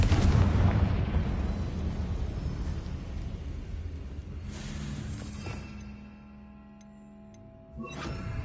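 A Confringo fire spell blasts in Hogwarts Legacy on PS5, a loud explosive burst that rumbles and slowly fades. A second sharp blast erupts at the very end.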